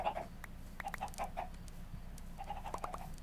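Chickens clucking on a farm in the video game Animal Crossing: New Horizons, a run of short repeated clucks in small bursts, moderately close, with no talk.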